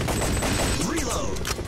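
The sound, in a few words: gunfire in video game Time Crisis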